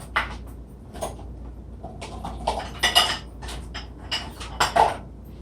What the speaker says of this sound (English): the best way to transfer your greens and your items that you've just cut is with a food mover, and you go ahead and just transfer it to your pot